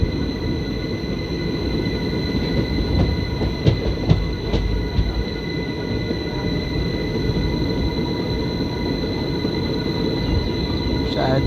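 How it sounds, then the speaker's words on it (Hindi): Sachkhand Express hauled by a WAP-7 electric locomotive arriving slowly on a loop line, a steady low rumble of rolling wheels with faint metallic clicks, heard from onboard another train. "So here let's go Sachkhand express. आ रही है।"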